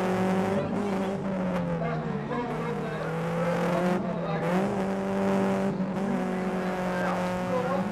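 Cars racing while towing caravans at a caravan race event, with engines revving and droning steadily throughout and brief tyre squeals. Loud and continuous, with a voice talking faintly underneath.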